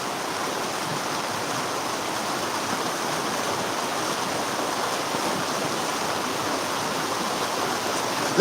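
A mountain river flows steadily in a continuous broadband rush of water, even and unbroken throughout, with no voices.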